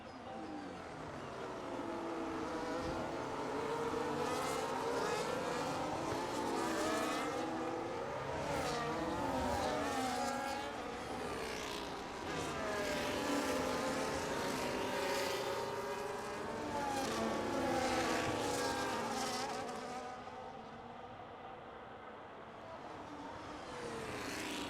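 Race cars in a racing video game at the Singapore Grand Prix scream steadily around the track, several engines overlapping and whining through gear changes as they pass, loud and continuous throughout.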